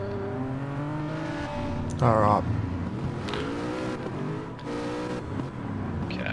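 Race cars lap Autódromo de Interlagos in a racing video game, their engines droning and revving steadily throughout, with a brief louder burst midway as a person talks over the sound.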